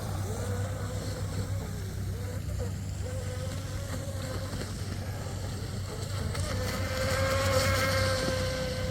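A Dead Ahead RC Timmy boat runs fast on water, its electric motor giving a steady high buzzing whine that holds level and then swells louder near the end.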